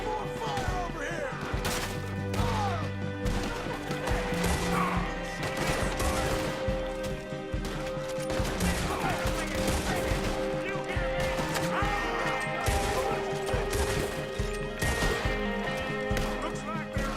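A Red Dead Redemption 2 shootout with dense, continuous gunfire cracks and impacts layered under game music and speech, busy and loud throughout.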